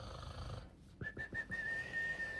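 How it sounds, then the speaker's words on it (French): A person whistles a single thin, steady high note held for over a second, following a few soft low thumps, fairly quiet with no talking. "Ah, maintenant même tu siffles."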